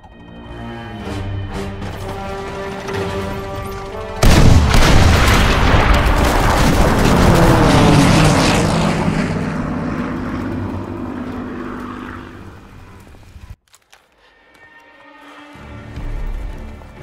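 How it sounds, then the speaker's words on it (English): Bombers droning overhead in the video game Call of Duty WWII, followed by a sudden loud bomb blast and a long rumbling roar that fades, then a brief silence and a new low boom. "Now our bombers can hit their targets."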